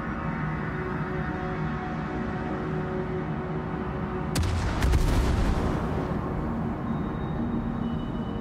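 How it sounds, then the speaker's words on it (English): An enemy warship's guns fire once in World of Warships: a sudden loud boom with a rumbling tail that fades over a couple of seconds, over a constant engine-like background drone. "Did they just freaking shoot at me?"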